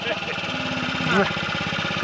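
A 5000HP HEMI race car engine idles with a steady, loping rumble that pulses evenly throughout. A brief voice sounds over it near the middle.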